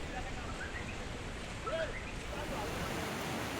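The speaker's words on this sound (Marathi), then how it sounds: "पाण्याचा विसर्ग वाढवण्यात आलाय आणि त्यामुळे गोदावरी नदीच्या पात्रात पाण्यालाही चांगला वेग दिसतो" Floodwater of the swollen Godavari river rushing past in Nashik, a steady loud broadband roar with no pauses.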